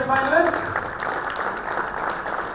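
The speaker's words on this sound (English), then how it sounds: "let's hear a round of applause for our 6 semi-finalists" A live audience applauds the six semi-finalists of an engineering quiz, with steady clapping running under a voice speaking at the start.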